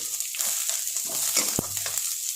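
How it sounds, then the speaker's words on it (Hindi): Onions frying in a pan for an instant upma premix sizzle and crackle unevenly, with scraping stirs and a sharp knock of the utensil against the pan, no voices. "अच्छा से भुनना है प्याज है ना"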